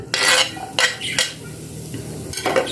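Onions go into a hot pan and get stirred, with several short, bright scraping and rustling bursts separated by quieter gaps, close up and without talk.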